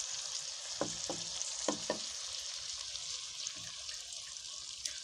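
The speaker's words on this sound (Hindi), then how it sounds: "मसाला यहाँ पे अच्छे से रेडी हो गया। अब इसके अंदर मैं दही ऐड कर दूंगी।" Yogurt is added to a sizzling masala in a pan for a fish curry, producing a steady close hiss of frying with a few short clinks of utensils against the pan.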